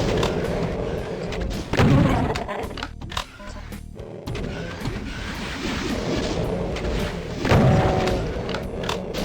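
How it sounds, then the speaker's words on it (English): In the Doom II game, a super shotgun fires in heavy booming blasts, with two louder shots standing out amid dense combat noise and growling monsters, and someone talking over it. "Now you just get super shotgunned."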